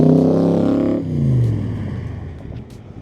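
1965 Backdraft Cobra RT4 with a Ford engine, headers and side pipes roars loudly as it pulls past, the deep rumble falling away and fading into the distance.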